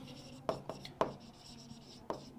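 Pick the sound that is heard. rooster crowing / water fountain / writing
writing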